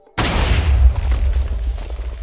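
A loud Minecraft explosion blasts through a wall, bursting in suddenly after brief quiet and rolling on with a deep rumble and crackling debris that gradually thins out, with no talk over it.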